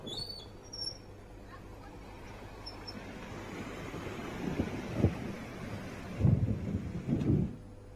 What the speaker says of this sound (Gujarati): બીજા દિવસે પણ ધોધમાર વરસાદ પડ્યો।